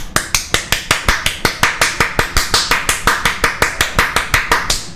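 Slow, deliberate hand claps in a steady rhythm of about five per second over five seconds, loud and close, each sharp strike ringing out alone with no talk, a sarcastic applause aimed at a Rome: Total War battle for Antioch.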